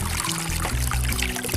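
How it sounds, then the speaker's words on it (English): Water flows out of a hose coming from a wood-burning pool heater, a loud, continuous pouring splash with gurgling under a low mechanical hum. "I probably got just too much water flowing out of here"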